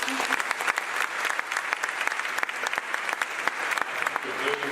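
An event audience at Falling Walls Lab Cape Town 2025 gives a final round of applause for the participants, dense sustained clapping from a large crowd, loud and continuous, with some voices beneath.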